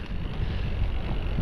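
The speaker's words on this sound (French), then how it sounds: "il y a un petit peu de vent" Cold north-northeast wind buffeting outdoors on a plain in Soorts-Hossegor, a steady rushing roar with gusty fluctuations, close and fairly loud, no voices.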